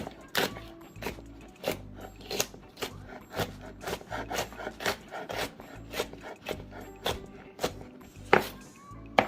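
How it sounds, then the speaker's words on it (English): Knife chopping garlic and hot pepper on a cutting board for pepper shrimp, a steady series of close, fairly soft knocks and scrapes in an uneven rhythm, alone without talk. "So we're cutting up the garlic and the pepper at the same time."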